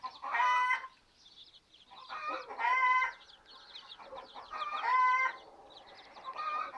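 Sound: chickens clucking

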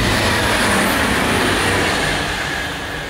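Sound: train passing at Esslingen

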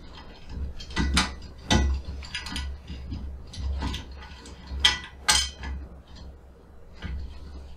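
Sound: threaded part being screwed and tightened on a megatree

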